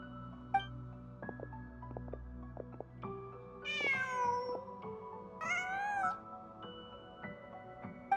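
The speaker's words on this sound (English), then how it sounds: "Just a cat." A cat in Genshin Impact gives two drawn-out meows a couple of seconds apart over soft background game music, with no talk.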